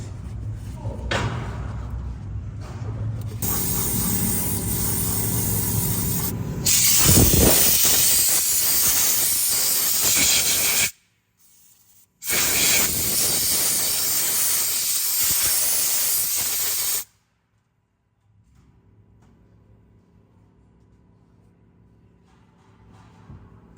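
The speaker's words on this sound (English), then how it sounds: "a little bit of brake clean if need be, blow it off with some compressed air if you have the means to do so." Brake cleaner sprayed and compressed air blown over a Honda Civic 2.0 transmission during a fluid service: long loud hissing bursts separated by abrupt stops, then a quiet low hum at the end.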